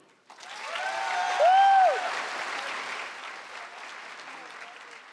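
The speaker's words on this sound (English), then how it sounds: "Please join me in a round of applause to thank Miss Baidoun." An audience at a school district honors night applauds to thank a guest, a broad wash of clapping that rises quickly, peaks with a brief whoop, then gradually thins out.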